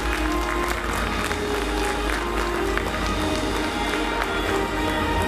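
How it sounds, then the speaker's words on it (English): Steady, dense applause from a large crowd at a corporate award event honoring a project winner, loud and continuous throughout without a break. "Let's have a huge roaring round of applause for Ms."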